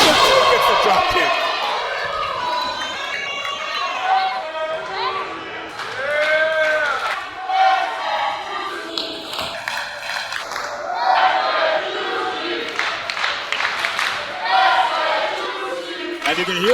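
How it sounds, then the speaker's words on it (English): A wrestling arena crowd rallies and cheers for Juventud during the match, a loud swelling roar with chanting rises and falls while a commentator talks over it. "you can hear this crowd starting to rally in favor of Juventud"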